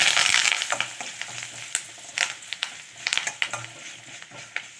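Urad dal and curry leaves fry in hot oil, a bright sizzle settling into a softer crackle broken by repeated scraping stirs and sharp pops, close and without speech.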